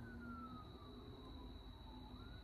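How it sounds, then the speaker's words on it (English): Faint, distant sirens wailing steadily over a low background hum, with no voices. "all night, I've been hearing sirens"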